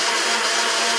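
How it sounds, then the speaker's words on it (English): A blender runs at full speed mixing a sodium alginate bath, giving a loud, steady, close whirring roar with no break. "So we're going to go ahead and turn on the blender."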